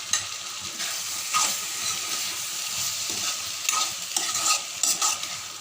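Cashews and potato pieces stirred in a frying pan, with a steady sizzle and hiss and scraping stirs rising in bursts, close and fairly loud, no talking.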